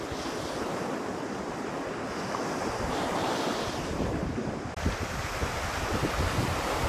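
Strong wind gusting across a Lake Michigan beach, a steady loud roar with driving sand and surf noise, buffeting the microphone with a sharp shift midway and no voices.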